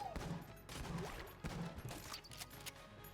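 Pulse Cannon fire in Enter the Gungeon, a run of loud, punchy blasts in quick bursts, each followed by clattering impact and crash noises, repeating steadily across the stretch over a busy game soundscape.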